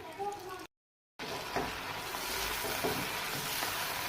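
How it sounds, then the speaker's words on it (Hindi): Chicken with yogurt fries over high heat for a white karahi. A voice is heard briefly, then after a short silence a steady, broadband sizzle with occasional stirring knocks fills the rest. "अच्छी तरह से दही शामिल करके भी इसको तेज़ आंच में भून लेंगे"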